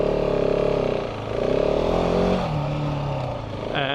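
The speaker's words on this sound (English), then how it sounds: "It's my first ride on this bike." A new 2024 KTM 690 Enduro R motorcycle being ridden, its loud close engine holding a steady pulsing drone that rises and shifts pitch with throttle changes.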